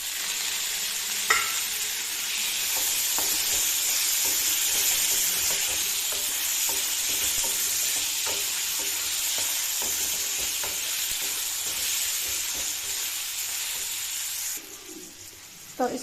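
Tomatoes tipped into a pan of frying onions and spices for chana masala and stirred, giving a constant close sizzle with scattered spoon scrapes and taps, fading toward the end.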